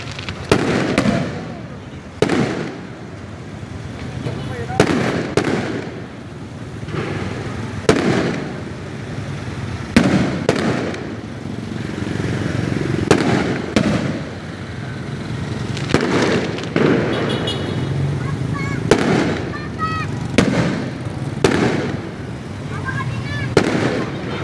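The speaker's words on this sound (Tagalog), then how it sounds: "bakal na kita paputok habang nabibidyo ako" Firecrackers and fireworks set off for New Year, sharp bangs and pops bursting repeatedly at irregular intervals, some close and loud, others farther off, with people talking between the blasts.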